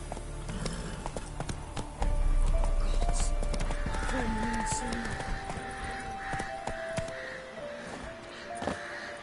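Roach, a horse in The Witcher game, gallops with rapid rhythmic hoofbeats and gives a short whinny partway through, set among game ambience with a voice briefly heard.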